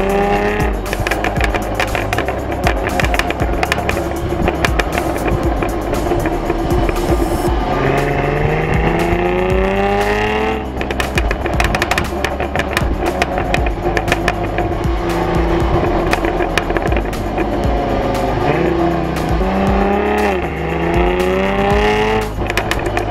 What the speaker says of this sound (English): the beautiful, aggressive exhaust sound that the F-Type was known for